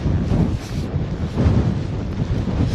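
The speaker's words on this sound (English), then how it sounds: "It's quite shocking how windy it is up this area actually." Strong wind buffets the microphone steadily and loudly across open upland fields near wind turbines, a continuous low roaring rumble with gusty swells and no voices.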